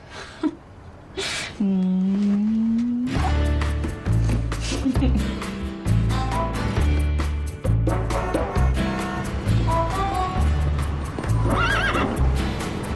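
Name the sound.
horse neighing and hooves clip-clopping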